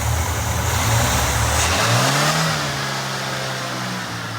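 A 1988 Ford Ranger with a replacement motor idles roughly and close by, its low steady rumble sagging partway through as though about to stall, with no talking.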